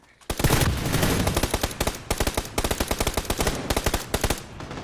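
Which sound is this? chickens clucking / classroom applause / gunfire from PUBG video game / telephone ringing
gunfire from PUBG video game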